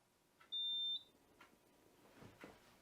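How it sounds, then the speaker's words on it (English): One steady high-pitched electronic beep from an Enagic water filter's replacement alarm, lasting about half a second, fairly clear over a quiet room with faint handling sounds afterward. "there's the alarm. Just went off."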